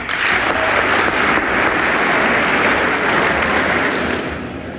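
Sustained, dense applause fills a large chamber during a Reagan State of the Union address, loud and steady throughout without a pause before easing slightly at the end.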